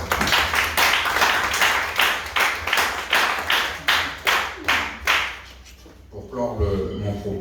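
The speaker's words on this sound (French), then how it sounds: "Je pense qu'on peut les applaudir" Rhythmic, synchronized clapping at a seminar closing ceremony, about a dozen sharp beats in steady cadence, fading out near the end as a voice begins speaking.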